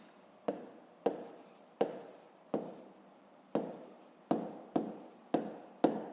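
Pen strokes on paper during a fifth-grade maths exercise, nine or ten distinct scratchy marks in an even rhythm, close and quiet with near silence between them.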